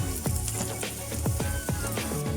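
Chopped Alexandrian-style liver and garlic sauté in a hot pan, giving a steady close sizzle and crackle with no talk.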